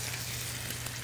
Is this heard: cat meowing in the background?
no